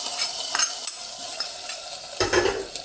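Onions fry for a tempering in a hot pan, a steady close sizzle with stirring scrapes scattered through it and a louder burst of sizzling near the end.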